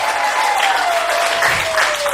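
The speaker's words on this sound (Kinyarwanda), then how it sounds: "twongera tuyikomera amashyi" An audience applauding, a loud continuous roar of clapping from a crowd, with a faint drawn-out tone running beneath it.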